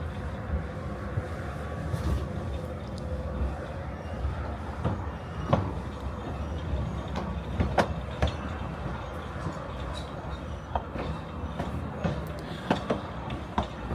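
Steady interior rumble of a train climbing toward a quarry siding in Wales, with rattling, creaking carriage clunks and occasional sharp knocks over a continuous low drone.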